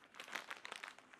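Soft, close crinkling of a sterile packaging pouch from a piercing kit, a quick series of small crackles with no talking.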